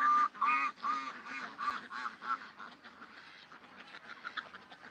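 A flock of vintage ducks quacks in a continuous, overlapping chorus of loud, nasal calls nearby, with no talk.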